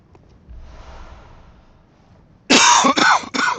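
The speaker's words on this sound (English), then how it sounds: "Had that coughing fit." An old man coughs in a harsh fit during a Bloodborne game stream: after a faint rustle, three loud, close, broadband bursts arrive in quick succession and stand alone, without talk.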